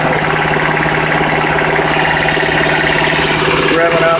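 A Mercury Villager minivan engine revs steadily at a high, sustained pitch, loud and close throughout, with a slight shift in tone near the end.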